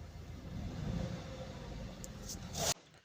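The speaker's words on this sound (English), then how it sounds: "See, the engine is running, but check engine is flashing on the dashboard." A Subaru engine with a cylinder 4 misfire idles in a low steady rumble, slightly uneven, close by, ending with a brief rustle before it cuts off abruptly.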